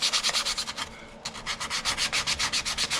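Hand sanding of a CNC-cut wooden box, quick rhythmic back-and-forth rasping strokes, close and steady, with one short pause midway.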